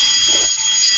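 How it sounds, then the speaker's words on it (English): A fire alarm sounding in a library, a loud continuous high-pitched electronic tone that holds steady without a break. "I thought the fire alarm was going off."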